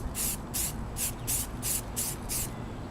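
Spray gun applying primer to a Yamaha RZ350 motorcycle tank during restoration: seven even, hissing bursts in a steady rhythm, close and loud with no talking.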